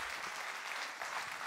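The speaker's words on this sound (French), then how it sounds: "je crois qu'on peut vraiment les applaudir tous les deux pour cette belle démonstration" An audience applauds after a culinary joust cooking demonstration in Angoulême, a dense, even patter of many hands at moderate loudness, brief and continuous with no voices over it.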